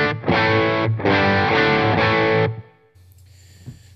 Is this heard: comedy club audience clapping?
no